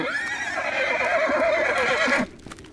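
A horse gives a long, loud, wavering whinny close by that cuts off sharply, leaving faint rustling and a few soft thuds, with no talk.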